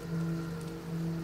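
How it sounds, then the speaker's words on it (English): Steady rain near a bridge at night, a constant soft hiss with a low hum underneath, faint and unbroken for the whole short stretch. "I think the rain sound is making it creepy"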